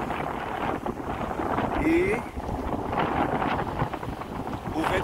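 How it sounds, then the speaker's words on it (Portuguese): Strong seaside wind buffets the microphone in loud, continuous rumbling gusts along an eroding coastline in Olinda, with a person talking over the roar. "O vento tá bastante forte, gente."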